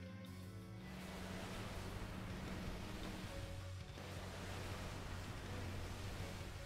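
A Tidal Wave spell from Final Fantasy V fills the scene with a continuous rushing, surf-like roar, fairly quiet and steady, with a faint low hum running underneath.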